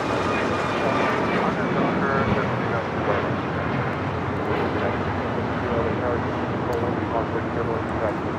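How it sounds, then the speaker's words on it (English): A United Airlines Boeing 737 MAX 9 taking off from LAX bound for Houston, its jet engines a steady, broad roar that fills the whole stretch at constant loudness, with wind buffeting the microphone. "This is United Airlines 2237 taking off to Houston Intercontinental on a MAX 9"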